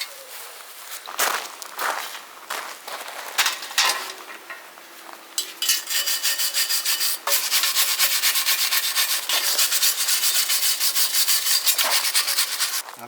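A garden relic is sanded by hand with 120 grit sandpaper. Close, scratchy rubbing strokes start irregularly, then settle into a steady, loud, continuous back-and-forth abrasion.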